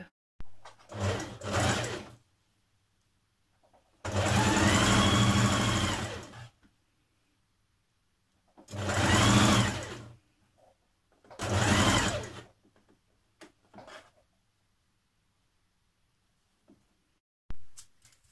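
A sewing machine stay-stitches the edge of a jumpsuit bodice back, running in four or five distinct bursts of steady whirring stitching, each a few seconds long, with quiet pauses between them.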